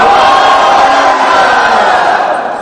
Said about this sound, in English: Raise your hands and yell Garanga as loud as you can.